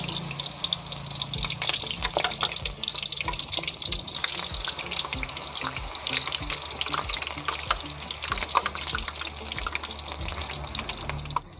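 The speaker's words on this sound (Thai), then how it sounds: "เราต้องให้น้ำมันร้อนดีนะคะ ไม่อย่างนั้นมันจะอมน้ำมันนะคะ เอาลงทอดเลยนะคะ" Sliced banana stem deep-frying in hot oil, a steady dense sizzle full of crackling pops and bubbling spatters, close and continuous with no voices.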